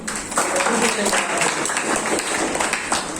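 Steady applause from a church congregation on Good Friday, a dense wash of clapping that keeps going throughout, with some voices mixed in.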